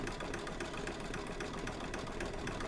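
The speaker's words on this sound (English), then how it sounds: "I am really surprised that it's stitching out so well" An embroidery machine stitches out a haunted house quilt block using regular thread with one metallic strand, giving a steady, dense mechanical whir with rapid needle rattle that runs continuously at moderate, close level.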